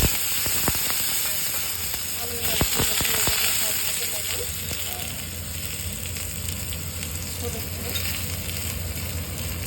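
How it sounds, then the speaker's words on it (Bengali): Steady sizzling of potatoes frying in oil fills the clip, with a few sharp utensil clinks and scrapes early on. "এখন আমি এই তেলের মধ্যে আলু ভেজে নিচ্ছি"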